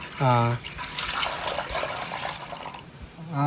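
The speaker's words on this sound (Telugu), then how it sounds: "నీళ్లు కూడా పోయాలండి సరేనండి పోయండి" About two litres of water are poured into a container, making a close, continuous splashing rush for roughly two and a half seconds. Short spoken voices come just before and after the pour.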